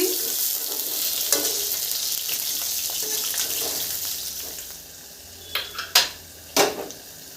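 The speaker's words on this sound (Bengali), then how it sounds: "মাছটা একটু লাল লাল করে ভেজে নিই" Rohu fish pieces frying in oil in a pan, a steady broadband sizzle running close and loud for most of the clip, then easing off as a few sharp clinks of a utensil against the pan ring out near the end.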